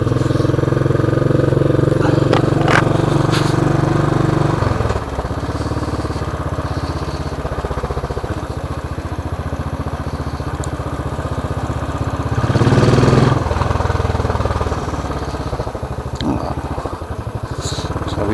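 Motorcycle engine running close by, a steady mid-pitched drone that shifts tone after a few seconds and swells briefly later, continuous throughout with no voices.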